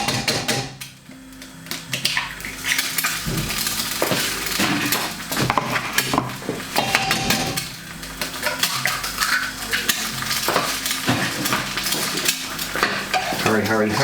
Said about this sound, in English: while I'm cracking the eggs in, it's starting to cook.